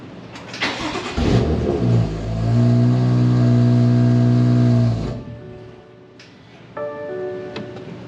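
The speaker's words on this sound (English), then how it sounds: "go ahead and start your car at this point and let it run until it stops" A BMW M2 engine cranks and fires with a loud rev flare, then settles into a steady, strong idle for a few seconds before shutting off; a brief quieter rumble and a second short engine burst follow near the end.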